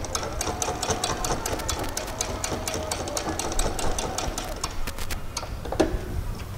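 A sewing machine stitches the waistband of a pair of shorts with a fast, even run of mechanical ticks, steady and close, then stops near the end with a brief clunk.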